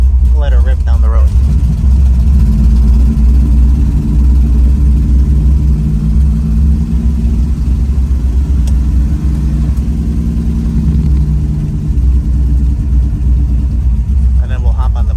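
A 1971 Chevrolet Chevelle with a 406 Dart engine roars loudly and steadily as it accelerates down the road, a deep sustained rumble close by with brief voices at the start and end.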